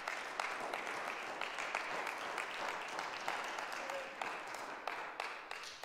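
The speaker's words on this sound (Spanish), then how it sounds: "Pongamos un fuerte aplauso a Cristo," A church congregation applauds loudly and steadily at a Spanish-language service, dense clapping filling the space without a break and carrying on throughout.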